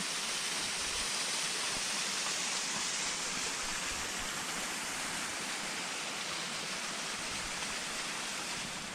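Constant rushing water from a mountain waterfall roars steadily throughout, a dense unbroken hiss of falling water with no voices.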